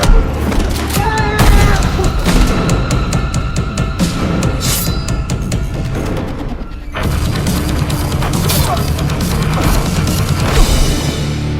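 Gunfire and heavy impacts from a 2025 action film scene, dense and loud throughout with booming hits and bursts layered over a busy soundtrack.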